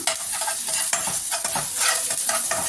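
Chopped onions with ginger garlic paste sauté in a hot pan for podi idli, a dense close sizzle with repeated spoon scrapes as they are stirred.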